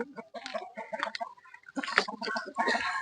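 A hen of a Thai native fighting-cock breed, red emerald type, clucks in repeated bursts close up, with short pauses between phrases and no talking.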